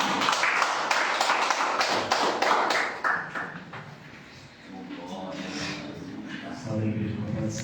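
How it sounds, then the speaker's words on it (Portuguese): A church congregation claps at a worship service: about three seconds of crisp, rapid hand claps, then the clapping drops away and voices speak and respond. "Aplauda o Senhor Jesus"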